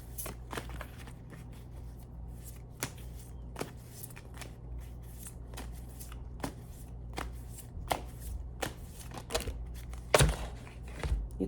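Tarot cards being shuffled by hand, a steady run of quick papery riffles and soft slaps close up, with a louder snap near the end over a low background hum.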